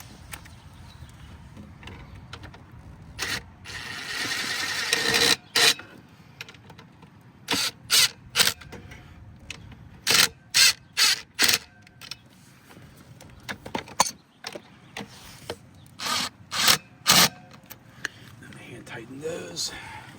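Bolts are tightened on a failed pool motor, with a ratchet or wrench giving sharp, repeated metallic clicks in short bursts, close up, spaced by pauses and low background noise.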